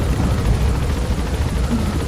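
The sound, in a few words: loud helicopter in a video game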